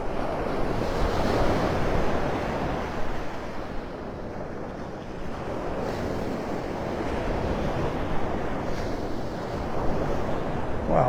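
Ocean surf rolls onto a hard-sand beach at Pelican Bay in North Naples, Florida, with continuous breaking-wave wash that swells and eases, and wind buffeting the microphone throughout.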